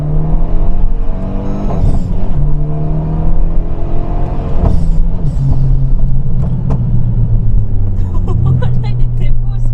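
A Renault Megane 3 RS engine screams near and loud at high revs, bouncing off the rev limiter and shifting pitch between gear changes, with a voice over it.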